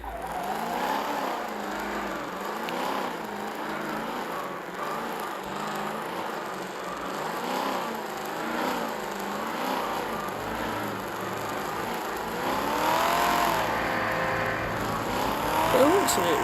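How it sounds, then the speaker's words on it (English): Cars race in a video game, engines droning and whining through shifting pitches with occasional tire squeal, the steady racing noise running throughout and growing louder near the end. "So we are quite literally just watching my cars race."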